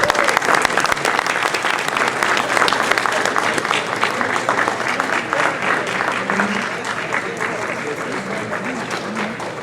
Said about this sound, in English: So if we could give them a round of applause as they come.